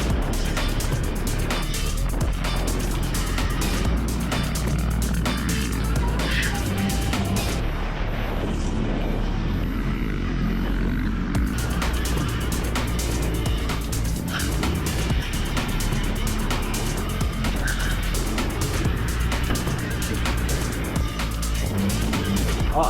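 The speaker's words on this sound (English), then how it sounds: "it feels so weird to be in a pack of all gas bikes on an e-bike" A pack of gas motocross dirt bikes rides a trail together, with an e-bike among them. Their engines make a loud, continuous roar that rises and falls but never lets up.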